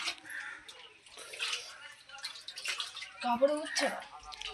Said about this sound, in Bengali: হাতে করে করে পানি তোলা হচ্ছে